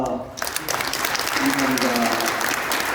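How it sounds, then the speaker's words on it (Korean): A congregation at a New Year church service for teachers breaks into loud, sustained applause of encouragement after a brief pause, and voices carry under the clapping. "우리 격려 박수 하면 되겠습니다"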